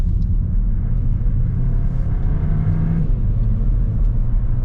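A Mercedes A180 with a 1.3-litre engine, driven using its paddle shifters, produces a loud, close, steady engine rumble with a low drone that holds throughout.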